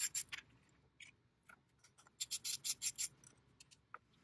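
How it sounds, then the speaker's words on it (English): An 8 mm wrench loosens a 12V battery terminal bolt on a Tesla Model S, giving faint scattered metallic clicks and a quick burst of ratcheting rasps, close up with no talk. "Now you use an 8 millimeter wrench to remove these two bolts."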